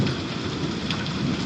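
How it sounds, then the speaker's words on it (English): A hi-hat sample processed into a rain-like texture gives a dense, continuous hiss of patter with low rumbling, steady and even throughout. "Now the hi-hat is creating rain."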